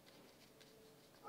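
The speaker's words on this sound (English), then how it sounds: "My neighbor's dog has awoken." A neighbour's dog whimpering somewhere nearby, faint soft whines heard in a quiet indoor room, rising slightly louder at the end.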